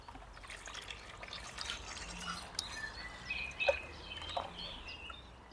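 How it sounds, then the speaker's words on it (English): Decking stain poured back into a pail gives a faint liquid trickle with small drips and splashes, quiet and uneven, with no voices. "if I just pour what's left back into one of these pails"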